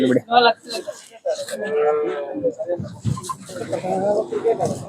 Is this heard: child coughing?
no